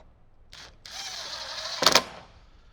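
A power drill drives screws into the roof trim of a Jeep JL, with a short whirring spin, a pause, then a longer steady whine ending in a brief loud rattling burst, close up with no talking.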